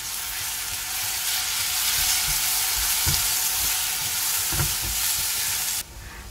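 Masala mixture with kasuri methi (dried fenugreek leaves) sizzles steadily in a pan while a spoon stirs it, giving a continuous close frying hiss with soft scraping strokes and no talk.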